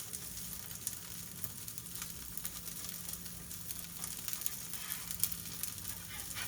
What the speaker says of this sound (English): you can hear that sizzle. That's what you're looking for